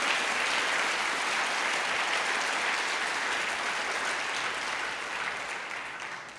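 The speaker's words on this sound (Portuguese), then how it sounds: "Dá um glória a Deus e aplauda o Senhor" A church congregation applauds during a worship service, a dense, steady wash of clapping that fills the room for several seconds and then gradually fades, with no clear speech on top.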